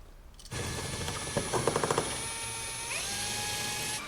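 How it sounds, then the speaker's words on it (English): A power drill bores a small hole through a Can-Am Spyder RT rear passenger floorboard, a steady close whine running on with a few brief louder bites as the bit cuts, and no talking. "Drilling tiny bit of hole just because you have a cable at the passenger floorboard"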